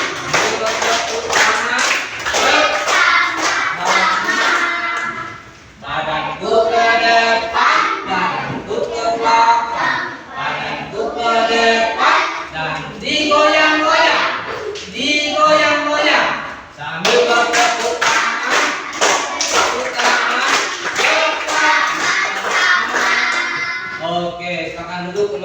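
Rhythmic hand clapping from a group keeps time with a children's song sung in Indonesian, the claps loud and steady through most of the passage, interleaved with singing voices.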